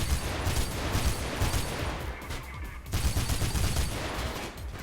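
Gunfire during a fight in the parkour video game Mirror's Edge, a dense, loud, continuous barrage of rapid shots and bursts with a brief dip in the middle before firing resumes, and no talk over it.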